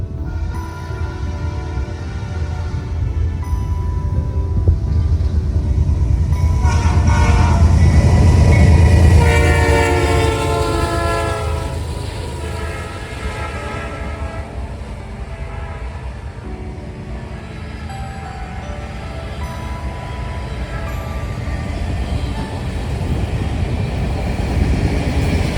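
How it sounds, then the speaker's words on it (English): An eastbound manifest freight train on the BNSF Emporia Sub passes with its P3-9 horn, sounding loud sustained chords over the steady rumble and clatter of rail cars, peaking near the middle and continuing as the train rolls by. "Next was an eastbound manifest with a P3-9 on the point. This was really cool to see and I was really happy since I love P-Series horns."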